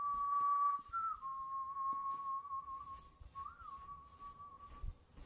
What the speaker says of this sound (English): She likes whistling.